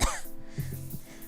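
A man clears his throat and coughs in a short, close burst, with a low rough vocal sound following.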